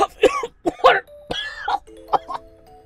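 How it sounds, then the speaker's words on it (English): In a video game, a character coughs up water, sputtering a few times in quick bursts, close up, followed by a short chiming tone. "I'm coughing water."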